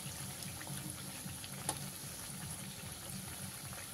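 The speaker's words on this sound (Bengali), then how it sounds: "উল্টে পাল্টে আমি ভেজে নিয়েছি।" Cabbage pakoras fry in hot oil with a continuous bubbling sizzle and a soft bump of turning partway through, moderately quiet and steady, with no voices.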